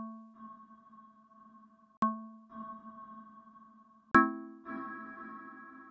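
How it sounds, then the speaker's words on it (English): Sustained synthesizer tones from an Erae instrument with a sharp attack on each new note, tails ringing out in delay and reverb echoes; quiet and electronic, no voices. "So let's add a reverb and listen to it."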